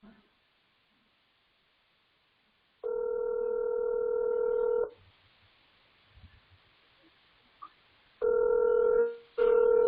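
An unanswered telephone call rings in two long, loud electronic bursts with quiet line hiss between them, followed by a short clipped tone at the end.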